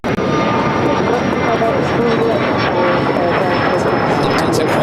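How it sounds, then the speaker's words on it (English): Air Tahiti Nui Boeing Dreamliner pushing back from the West Gates at LAX, a steady loud jet engine roar and whine with a high tone held throughout, voices heard over the noise. "I also have Air Tahiti Nui, a Dreamliner, now pushing it back for the West Gates."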